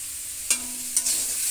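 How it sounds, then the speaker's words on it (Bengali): Spices with salt, turmeric and red chilli powder sizzling in a pan for a small fish curry, a steady bright hiss with two short scraping stirs of a spatula. "এখানে খুব সুন্দর করে কষাই নিচ্ছি, মানে ভাজা ভাজা কষা কষা করে নিচ্ছি।"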